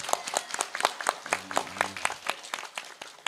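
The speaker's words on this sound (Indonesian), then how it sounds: "Ayo tepuk tangan." Scattered applause at a religious gathering honoring a graduation, a small group clapping with distinct, irregular claps and a brief low voice underneath.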